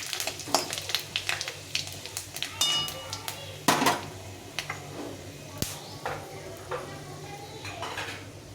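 Dried red chillies and a bay leaf tempering in hot oil in a pan for a lentil dal, with soft sizzling and repeated clinks of a spoon stirring against the pan, close and moderately loud, no talk.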